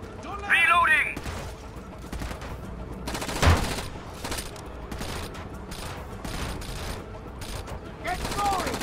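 Video game gunfire in Rainbow Six Vegas inside the Calypso Casino: bursts of automatic rifle fire crackle over a steady din of shots and impacts, with a few loud thumps and shouted squad voices breaking through.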